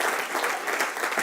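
A church congregation applauds loudly, a dense continuous burst of many hands clapping together, close and energetic for the whole moment.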